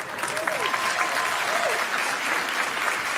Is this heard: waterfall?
no